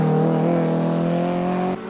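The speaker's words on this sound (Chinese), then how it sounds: "一台台跑车飞奔眼前" A rally race car at the final round of the Taiwan TRCC rally championship in Yunlin roars past at high speed, a loud sustained engine tone holding steady before cutting off abruptly near the end.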